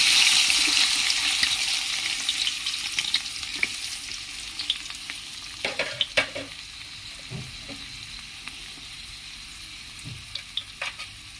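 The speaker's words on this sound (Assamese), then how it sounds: "আৰু এতিয়া তেলখিনি গৰম হৈ যোৱাত মই ইয়াতে এই গোটেইখিনি দি দিম।" Chopped onion, tomato and green chili are dropped into hot oil and fry with a loud hissing sizzle that gradually settles, broken by scattered clicks of stirring.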